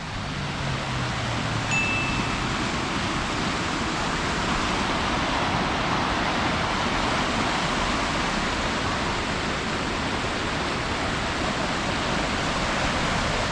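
A river in the Ecuadorian countryside flows in a steady, broad rushing wash that stays loud and even throughout, with no voices heard.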